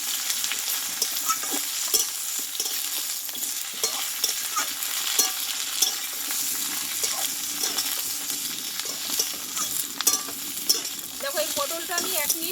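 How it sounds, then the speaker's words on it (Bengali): Pointed gourd stir-fried in oil, a dense continuous sizzle with frequent scraping and clattering from stirring throughout, close and steady with no talk. "পটলটা দিয়ে দিয়েছি দেখো এটা একটু তেলে নাড়াচাড়া করে নেবো"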